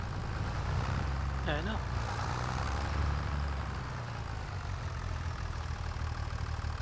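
Tractor engine idling and rumbling in Farming Simulator 25, a steady low drone throughout while someone talks briefly over it.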